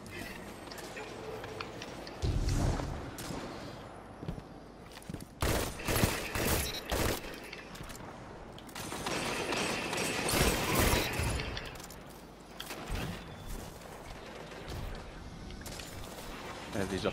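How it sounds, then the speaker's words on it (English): Slug shotgun fire in a video game comes in loud, repeated blasts and clustered bursts, with voices heard at times during the shooting. "Slug shotgun."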